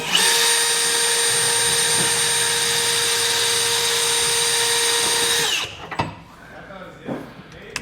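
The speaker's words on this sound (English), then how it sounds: "take a very small drill bit and drill a pilot hole" A power drill with a very small bit bores a pilot hole through a 2023 Chevrolet truck bed for an underbed fifth wheel kit, a loud close steady whine lasting about five seconds before spinning down into light metallic clinks.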